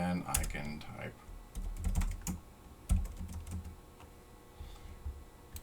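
Keystrokes on a computer keyboard while entering Python code, a quick irregular run of clicks close by, pausing and resuming in short bursts.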